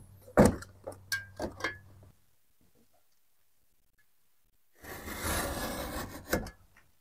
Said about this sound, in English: come down with the Stanley knife again